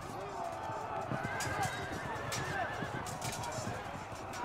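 Horses of the Nomad Horse Archers gallop in the medieval battle game Field of Glory II: a rapid run of hoofbeats with a whinny over a busy battle backdrop.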